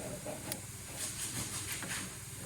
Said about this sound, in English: I think it was just the fan running